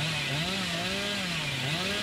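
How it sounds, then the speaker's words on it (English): The chainsaw of the Hillbilly killer in the video game Dead by Daylight revs continuously during a sprint, a loud, close engine whine with a wavering pitch that rises and dips throughout, with no talking over it. "after I've been chainsaw sprinting for at least 2 entire seconds"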